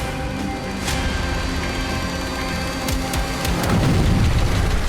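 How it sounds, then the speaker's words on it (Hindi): A loud blast from a Ukrainian strike on a Russian MLRS in the Kovolivka area of Luhansk, captured in war footage, with a deep rumbling boom and scattered sharp cracks over dense, continuous noise. "यह जोरदार धमाका लुहांस्क के कोवोलिवका इलाके में हुआ।"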